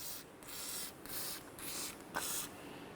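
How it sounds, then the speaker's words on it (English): Four short hissing bursts of penetrant spray hit the front brake rotor of a 2005-2010 Chevrolet Cobalt, evenly spaced and close by, with no talking. "spray down the rotor with some penetrant to help relieve it from the wheel bearing"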